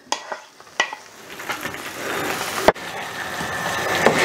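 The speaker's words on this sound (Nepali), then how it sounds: "यो जम्मै यसरी मसला गोभीमा हामीले यसरी मिक्स गर्नुपर्ने हुन्छ।" Cauliflower tossed with masala spices and chilli in a hot pan, giving a steady soft sizzle and scraping stir with a few sharp clanks of the utensil against the pan, close and moderately loud.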